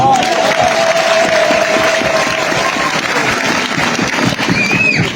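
Loud applause from a church congregation at a 50th anniversary Sunday service, dense sustained clapping close by with crowd noise and a few voices mixed in.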